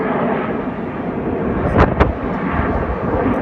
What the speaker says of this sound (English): All 9 jets now starting to go upside down at 400 miles an hour.